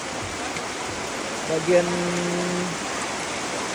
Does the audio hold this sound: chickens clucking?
no